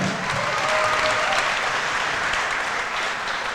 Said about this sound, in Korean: 오늘 타스 경기를 위한 선수들에게 큰 박수 부탁드리겠습니다.